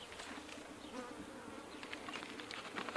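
Honey bees swarm around their hives in Texas while a beekeeper feeds them, a dense, steady buzzing that hums without pause and swells slightly louder toward the end.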